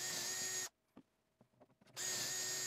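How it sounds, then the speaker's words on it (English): A power drill pre-drills a hole in wood through a doweling jig, whirring loudly in two bursts with a short gap of light clicks and handling noises between them. "and I can pre-drill the hole."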